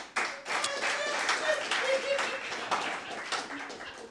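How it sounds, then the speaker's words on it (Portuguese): An audience at a stand-up comedy club breaks into applause, a dense patter of clapping hands lasting several seconds, with some voices and a few cheers mixed in. "Uma salva de palmas para os humoristas que passaram aqui antes de mim."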